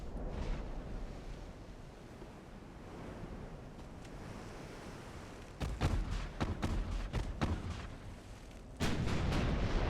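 Naval secondary guns on a warship in Ultimate Admiral: Dreadnoughts fire a series of sharp booms over rushing sea and wind noise, several shots clustered midway and a heavier blast near the end.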